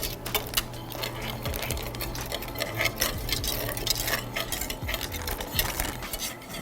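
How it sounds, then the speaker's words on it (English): A sauce thickening in a pot as it is whisked steadily, giving a continuous fast metallic ticking and scraping against a low hum, close and moderately quiet, with no voices. "We're gonna make sure he's whisking continuously"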